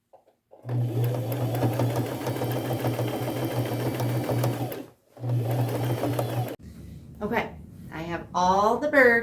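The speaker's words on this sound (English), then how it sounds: "Now I'm just going to go to my machine and get those all stitched on" A sewing machine runs a straight stitch with gold thread to attach appliqué patches, a steady close mechanical hum with a brief pause, followed by a few seconds of a person talking.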